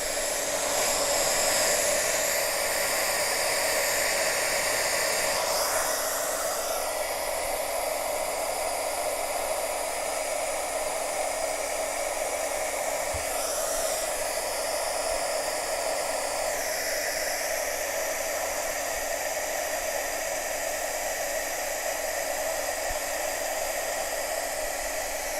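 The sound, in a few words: heat tool blowing hot air to dry ink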